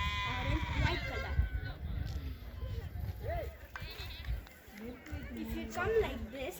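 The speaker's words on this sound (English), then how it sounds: "See how much sheep are there?" Black and white sheep bleat on a sheep farm in Kodaikanal, with several wavering bleats scattered under a person talking nearby.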